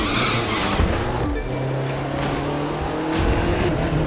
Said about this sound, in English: We're gonna have a big drift here.